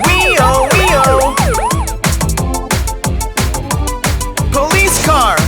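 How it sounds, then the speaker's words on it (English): A cartoon-style police car siren wails in rising and falling sweeps over an upbeat children's song with a strong, bouncy beat, loud and up front. "Police car! Wee-oh, wee-oh!"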